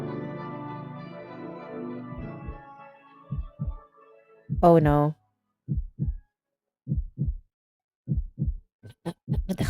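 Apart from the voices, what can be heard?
heartbeat sound effect in drama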